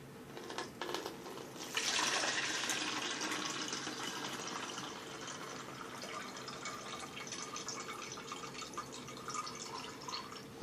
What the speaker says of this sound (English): I drain it into a separate pitcher, a pitcher that's wide enough for me to put the strainer on top of